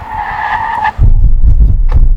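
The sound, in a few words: Audi Q7 tires skidding in a brake test from 60 mph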